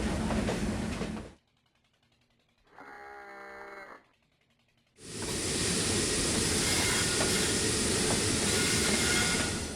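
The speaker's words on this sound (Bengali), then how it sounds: "নির্ধারিত সময়ের যাত্রা বিরতি শেষ করে ট্রেনটি সামনের দিকে যাচ্ছে" A passenger train in Bangladesh rumbles loudly along the track, then a tonal horn-like sound is heard during a quieter break. The heavy, continuous roar of the moving train returns and holds close by until the end.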